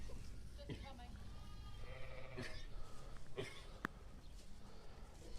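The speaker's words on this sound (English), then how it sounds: "What's happening with that ewe, Fiona" Ewe bleating in a lambing shed on a farm during lambing season, a few short faint bleats over a steady noisy background, with some voices nearby.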